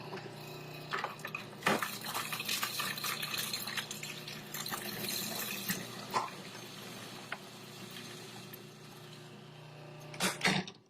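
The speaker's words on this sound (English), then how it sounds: "with the machine on and running, we're going to drop in the garlic and the jalapeno through the feed tube" A Cuisinart 14-cup food processor runs with a steady, whirring motor hum while garlic and jalapeno drop through the feed tube, with brief clattering knocks as the pieces hit the spinning blade.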